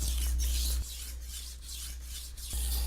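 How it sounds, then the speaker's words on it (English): A Bob Kramer Zwilling knife is drawn across a whetstone in close, gritty rubbing strokes, several rhythmic passes of scraping with steady level and no voices. "you can make a sweeping arcing motion across the stone and then flip to the other side"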